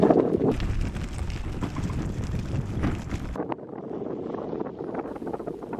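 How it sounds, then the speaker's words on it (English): Strong wind buffets the microphone on an exposed seawall during a rainy cycling tour, a loud broadband roar for three seconds that drops abruptly to a softer, gusty rush. "It was getting really windy and it was getting quite wet as well"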